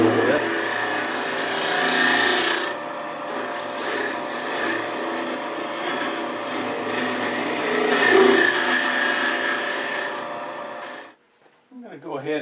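A spindle gouge hollowing bubinga on a spinning lathe gives a steady, broadband scraping hiss with a hum underneath, swelling and easing as the cut deepens, then stopping abruptly near the end, followed by a brief voice.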